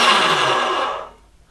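A Marcato Atlas pasta machine motor attachment whirs with a loud, steady close-up drone, then cuts off abruptly and winds down to quiet near the end.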